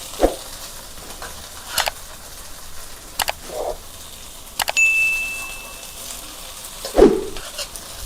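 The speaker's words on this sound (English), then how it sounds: "Now I am going to add 1 cup of cooked rice." Cooked rice being tossed and stirred in a hot pan for street-style egg fried rice: sparse scrapes and clinks of a spatula at irregular intervals over a low, steady background, with no voices.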